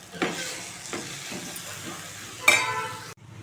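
Onion and moong dal are stirred in a sizzling pan, with a steady frying hiss broken by a few scraping strokes and a sharp clink of the spoon against the pan.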